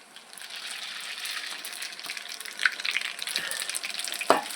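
Mustard seeds and cumin crackling and sizzling in hot oil, a steady close frying hiss with scattered pops as the seeds spatter.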